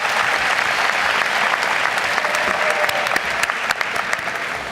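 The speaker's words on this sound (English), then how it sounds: "Let's give all those who are here for you today a round of applause." A high school graduation audience at R.B. Stall High School in 2014 applauds in a dense, steady wash of clapping that holds at full strength for the whole stretch.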